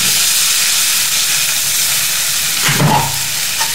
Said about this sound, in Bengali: টমেটোগুলো দিয়ে নাড়াচাড়া করে ভুনবেন টমেটোগুলো গলে যাওয়া পর্যন্ত